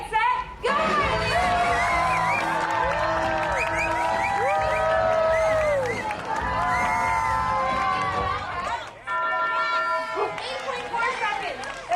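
Arena crowd at Universal Studios Hollywood cheering on racing dogs through a course, with loud continuous shouting, whoops and children's high-pitched screams, a brief dip near the end before the noise swells again.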